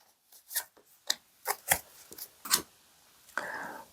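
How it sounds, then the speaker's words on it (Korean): Quiet card handling: a few soft slides and light taps of cards, spaced out irregularly, ending in a brief rustle, close and faint with no talking. "제가 부자의 그림 카드를 조언점으로 한 장 더 뽑아 볼게요"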